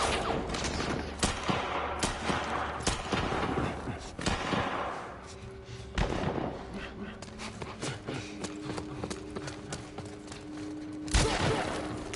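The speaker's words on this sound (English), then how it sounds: "Look, I'm shooting right at him." Gunfire in The Last of Us video game: a quick string of sharp shots cracks out over a busy game soundtrack, with someone talking throughout.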